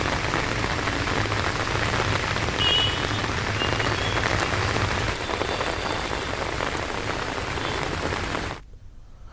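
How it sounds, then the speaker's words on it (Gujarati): Heavy monsoon rain in Gujarat pours down hard and leaves water over the roads, a loud, dense, unbroken roar of rain that cuts off abruptly near the end. "વરસાદ વધારે પણ પડી શકે છે, જેના કારણે રસ્તા ઉપર પાણી ફરી વળ્યા છે"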